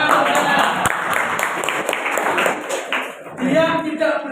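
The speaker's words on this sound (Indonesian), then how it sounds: "tepuk tangan" Students in a classroom clap together on cue from their teacher, a loud burst of rhythmic clapping that fades after about three seconds into children's voices chattering.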